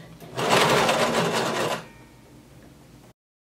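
A sewing machine stitches a denim pocket for a paperbag maxi skirt, giving a fast, loud, steady whir of needle strokes for over a second before slowing and falling to a quiet hum.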